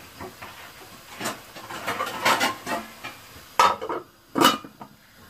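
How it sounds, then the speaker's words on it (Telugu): A metal lid set onto a cooking pan of simmering tomatoes for paneer butter masala gives a few sharp clinks and clatters, with the loudest knocks near the end over a faint hiss. "సిమ్లో పెట్టేసి మూత పెట్టేస్తున్నాను."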